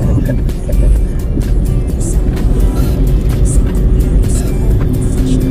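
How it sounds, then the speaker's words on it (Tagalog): Traffic with many vehicles moving around on a road, a dense loud rumble of engines and tires close by, with people talking faintly under the noise. "parang maraming sasakyan na"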